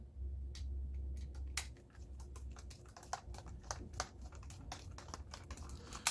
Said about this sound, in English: We begin by removing these 2 screws right here.